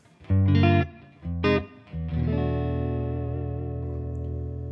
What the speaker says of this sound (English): Just your basic clean tone on the neck pickup of this particular guitar.